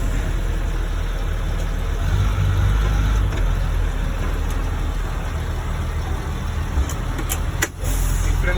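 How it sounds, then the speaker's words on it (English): A school bus drives forward and brakes to a stop, its engine giving a steady, close, low rumble throughout with no clear voices over it. "Now I'm going to check my service brake. I'm going to move forward and stop."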